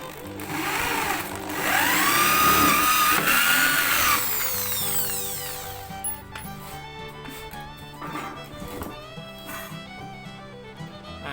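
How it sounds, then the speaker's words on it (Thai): Jigsaw cutting a circle in wood with the blade inserted through a drilled hole, a loud, continuous buzzing whine with rising and falling pitch as the cut curves, then a steadier rattling drone. "ใบจิ๊กซอใส่เข้าไปเลยนะครับ ก็ ตัดตามนะครับ"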